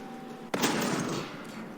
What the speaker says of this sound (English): So we're doing some danger close arty on this building here.